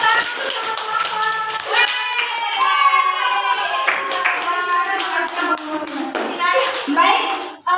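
Students in a classroom clap for a student group, sharp hand claps scattered beneath loud overlapping children's voices for several seconds.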